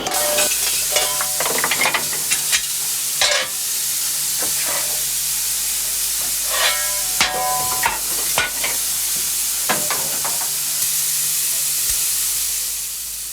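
Steam locomotive 6998 at Didcot with its blower on at half a turn, giving a steady close broadband hiss throughout, broken by intermittent sharp clanks and metallic knocks from the footplate.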